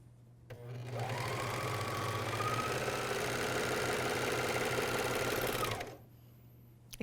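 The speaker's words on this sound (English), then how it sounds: "we're going to take it to the serger and sew our seams" A MyLock 454D serger runs continuously for about five seconds while sewing cuff seams on pajama bottoms, a fast, even mechanical whir with a rapid stitching chatter, starting and stopping abruptly, alone and close.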